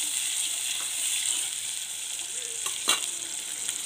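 Chicken pieces coated with turmeric sizzle in a hot pan, a dense steady crackle with a few louder scraping clanks as they are stirred near the end.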